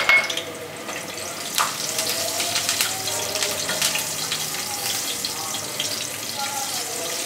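Curry leaves and round chilies go into hot oil for a Pakistani khatti daal, giving a steady, close sizzle that starts with a sharp burst and continues as an even, crackling hiss.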